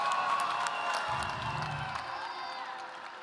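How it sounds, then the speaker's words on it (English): Crowd at a fight event cheering and applauding after a five-round bout, a continuous roar of clapping and shouts with a brief low rumble, fairly distant. "a round of applause for both of these"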